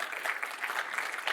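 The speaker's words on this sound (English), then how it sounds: "I'm going to clap for that" A presenter claps for a software demo during a tech conference session, a short, quiet burst of rapid clapping with no talk over it.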